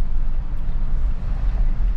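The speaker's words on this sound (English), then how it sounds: "It's blowing a gale out here." Strong wind roars steadily across the microphone in San Francisco, a loud low buffeting rush with gusty fluctuations and no voices.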